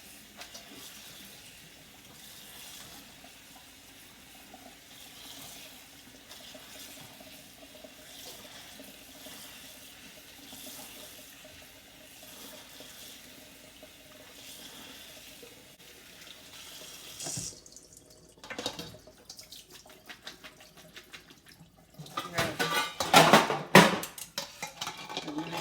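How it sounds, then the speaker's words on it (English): Cold tap water runs steadily over cabbage being rinsed in a kitchen sink, a constant splashing stream. Near the end come louder clatters and knocks of dishes or a strainer being handled. "I'm going to rinse this cabbage under cold water."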